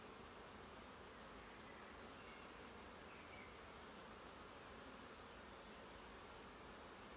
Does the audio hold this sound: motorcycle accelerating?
no